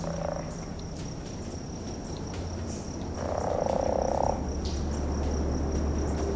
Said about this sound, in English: I'm hearing crickets and...